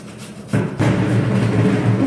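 Beetroot being shredded on a hand grater in a home kitchen, a steady rasping scrape that starts softly and turns loud and continuous after a moment, close to the listener with no talk.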